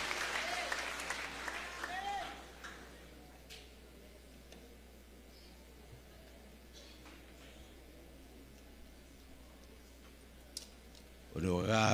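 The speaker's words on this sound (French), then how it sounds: "On nous applaudit le prédicateur avec un chaud d'applaudissements." A church congregation at an annual convention applauds a preacher, with fairly loud clapping at first that then fades into a long stretch of quiet room noise, and a voice begins near the end.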